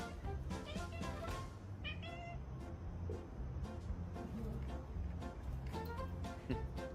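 A cat meows several times in quick, insistent calls over a constant background rumble, fairly close and clear.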